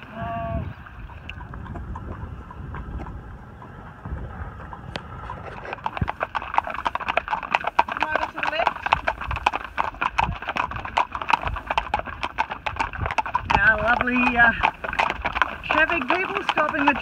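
Horses clip-clop steadily outdoors, hooves near and continuous, with some splashing as they take water. A voice speaks briefly over the hoofbeats.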